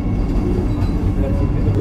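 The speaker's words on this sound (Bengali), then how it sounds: "ট্রেন 130 কিলোমিটার বেগে ছুটছে," Steady, loud rumble and rattle from inside the Puri Vande Bharat Express as it runs at about 130 km/h, a continuous low roar with no break.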